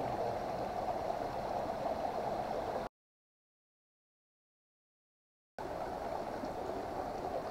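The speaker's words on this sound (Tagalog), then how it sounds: "Ayan guys, ito yung ilog sa may pinagdanlayan." A murky river on Mt Pinagdanlayan in Dolores, Quezon, flows with a steady broadband rush, cut by a few seconds of complete silence in the middle before the flowing water resumes.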